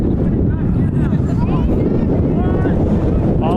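Strong wind buffets the microphone on an outdoor soccer field during a City SC Utah versus Utah Celtic match, a loud continuous low rumble filling the whole stretch with faint voices underneath.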